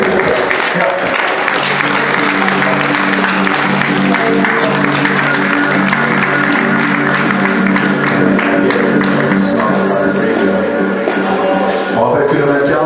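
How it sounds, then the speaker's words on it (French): An audience applauds amateur models and the groups at a fashion show in a hypermarket, steady dense clapping with some crowd noise that carries on without a break for over twelve seconds. "Applaudissements s'il vous plaît pour tous les groupes."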